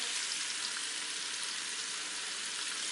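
Beef browns in a hot pressure cooker with a steady, even sizzle of frying fat, close and continuous with no talk over it.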